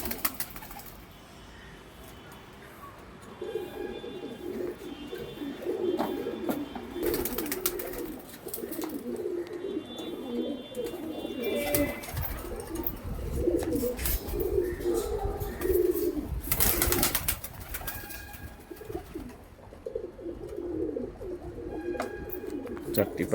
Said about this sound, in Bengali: এই যে একটি পায়রা ছাড়লো উড়ানোর জন্য